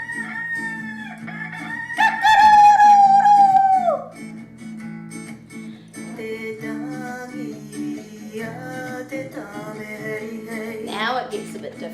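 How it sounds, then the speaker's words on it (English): A rooster crows loudly once, a long ringing call, surrounded by softer animal calls and murmured voices before and after. "What does the rooster say?"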